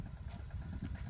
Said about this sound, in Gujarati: બાજુમાં ભાઈને એક મસ્ત કપામાં ટ્રેક્ટર હાલે છે